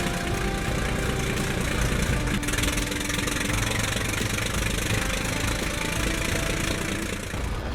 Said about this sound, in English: this machine is pushed by a Wright Continental radial engine,